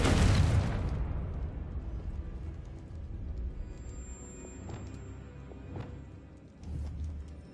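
A blasting Confringo spell explosion in a video game bursts loudly at the start, then rumbles and decays into lingering low crackle and ambient game noise, with a smaller swell near the end.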